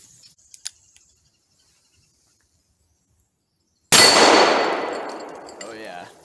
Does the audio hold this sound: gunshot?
yes